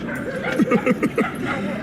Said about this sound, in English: My dog Kai